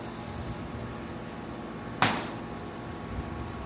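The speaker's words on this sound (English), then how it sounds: "get some WD-40 and just spray it down" A single short burst of WD-40 aerosol hisses onto a bedknife during reel mower grinding work, heard once over a steady background hum.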